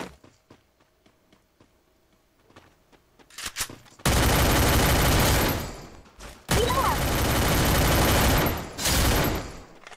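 Gunfire from an MP5 in the video game Free Fire: after a few quiet seconds of faint clicks, loud sustained automatic bursts erupt, break briefly, then resume.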